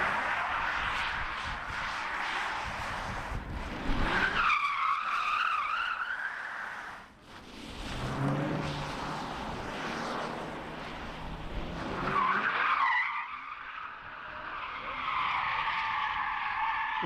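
Hyundai Ioniq 5 N drifting in circles, tires skidding and squealing loudly in long wavering screeches that rise and fall, with a brief lull midway before the squeal resumes.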